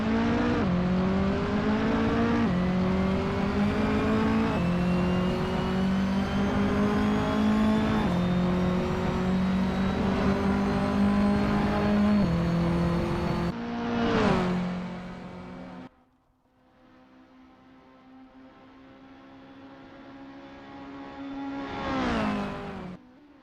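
Mini Cooper JCW Challenge F56 race car engine at Circuit Gilles Villeneuve in Assetto Corsa, revving hard through repeated upshifts, then dropping away and climbing again as the car accelerates once more.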